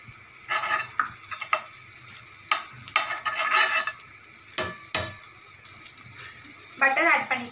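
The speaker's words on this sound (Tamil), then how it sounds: "பட்டர் ஆட் பண்ணிவிட்டு பட்டர் உருகட்டும்" Butter melting in a pan for a chicken bread pizza, giving soft intermittent sizzling and crackling with scattered scraping of a utensil against the pan, close and moderately loud.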